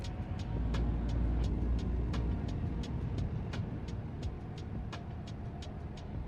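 A damaged truck rolls along in American Truck Simulator, a steady engine drone and road rumble with regular sharp ticking clicks repeating throughout.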